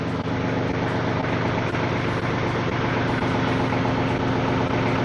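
A tractor engine idles loudly and steadily at close range, a low constant rumble with no voices.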